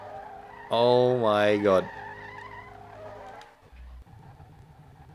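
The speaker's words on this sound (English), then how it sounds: "Fourth gear donuts?" Game engine of a Bugatti Veyron in SLRR spinning fourth-gear donuts, a loud rising rev with swooping tire squeal and skid for about a second, then a lower engine drone as a voice exclaims over it.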